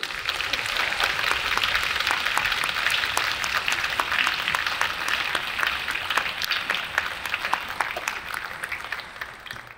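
Sustained applause from an audience at a university centennial jubilee, dense steady clapping filling the room for the whole stretch with no voices over it.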